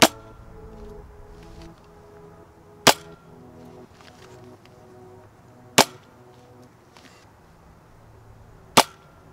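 Accustrike Falconfire toy dart blaster firing outdoors, three sharp snapping pops spaced about three seconds apart over quiet background handling noise.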